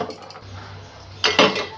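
A utensil scrapes and clinks against a pot as ingredients are mixed with a little oil, giving soft stirring scrapes followed by two louder metallic knocks near the end, with no talking.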